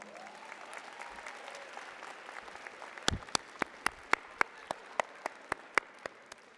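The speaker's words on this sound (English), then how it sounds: "So you can go ahead and give yourselves an applause right now." Nursing graduates at a university commencement ceremony give themselves applause, first as a faint distant patter, then as a run of sharp, evenly spaced close claps from a few pairs of hands.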